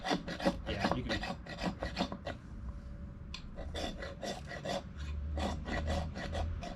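A knife spine scraped repeatedly against a ferro rod in rapid, rasping strokes, fairly close, in bursts of quick rubbing with a brief pause in the middle, no voices.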